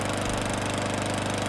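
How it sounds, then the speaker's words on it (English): Wolf growl from the game Valheim, a loud, continuous rumbling drone with a revving, engine-like pulse like a lawnmower, sustained steadily throughout with no talk. "the bit where the lawnmower revs up, it sounded like the growl of the wolf"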